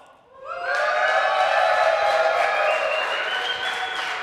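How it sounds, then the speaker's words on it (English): A live audience at an Age of Empires 2 esports offline event erupts into loud, sustained cheering and shouting that swells after a brief quiet start and holds steady to the end. "So on the count of 3, if you want Viper versus Heart the most, if that's your match of the day, cheer."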